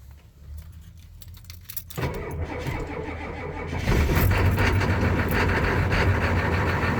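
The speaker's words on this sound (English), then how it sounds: "This is my 1994 f250, and I'm going to do a cold start on it." 1994 Ford F250 with a 7.3 IDI diesel and factory Banks power pack cold-starting: keys jingle first, then the starter cranks and the engine catches into a loud, rough, steady diesel idle.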